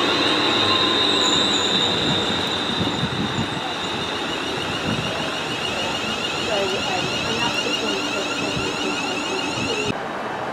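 A passenger train, a Class 158 diesel unit, rolls past with a steady rumble and a high, sustained squeal of wheels that ends abruptly near the finish.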